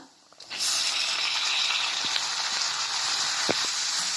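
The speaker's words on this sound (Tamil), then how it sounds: "தக்காளியும் நல்லா வதக்கிக்கோங்க." Ripe tomatoes sauté in a pan alongside onions for a Tamil-style paneer butter masala, giving a steady, loud sizzle that starts suddenly and keeps going, with a few faint clicks of stirring.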